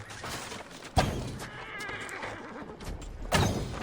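A horse in the video game Assassin's Creed Valhalla neighs loudly with a shrill, wavering whinny, with hooves clip-clopping nearby and a sharp thump at the start and end.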